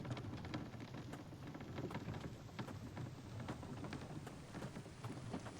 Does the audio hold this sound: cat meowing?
no